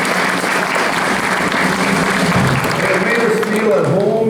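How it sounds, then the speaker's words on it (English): An audience at a Rotary show held on school grounds breaks into sustained, dense applause, loud and steady for several seconds with a few faint voices mixed in. "Let's give them a round of applause."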